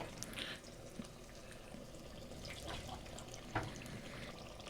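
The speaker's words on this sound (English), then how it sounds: "now you fill each of them up like halfway with water" Water is poured into pots of crushed tomato, a faint, steady splashing and trickling stream with a few soft clunks, heard quietly in a kitchen.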